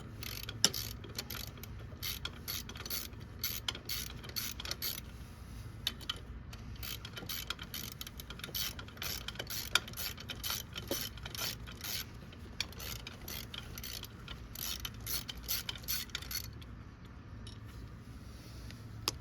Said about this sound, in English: We are taking a shallow 12mm socket and loosening it.